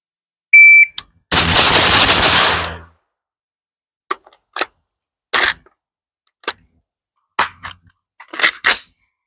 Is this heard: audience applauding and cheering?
no